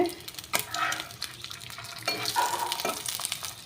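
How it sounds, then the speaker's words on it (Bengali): Eggs frying in a pan for a poached egg, a steady crackling sizzle with utensil scrapes and clinks against the pan, close and moderately loud. "আমি এই ডিমের পোচ করে নিচ্ছি"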